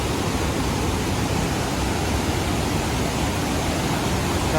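Powerful rushing water roars continuously and loudly, a dense, unbroken wall of noise like a torrent or waterfall close by, in the Konkan region, with no voices.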